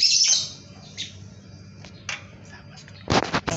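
An oriental magpie-robin chick gives shrill, rasping begging squawks in short bursts, with pauses between calls and a few handling noises nearby.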